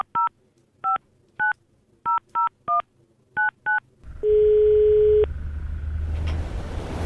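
A telephone keypad dials a number in nine quick, evenly spaced tone pairs, followed by a long steady tone and then a rougher, noisier line sound, all fairly loud with no talking.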